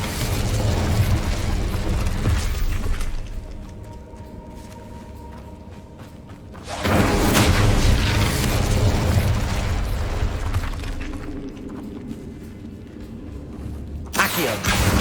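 Fire spell cast in Hogwarts Legacy, loud whooshing bursts of flame that swell, fade and return in a few waves, with rumbling game ambience and no talk.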